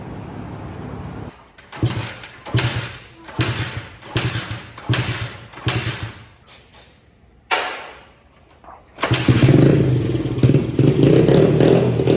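Kawasaki Z80R dirt bike engine on a custom build, sputtering through a string of short blips and bogging revs, then settling into a steady, loud close-up run.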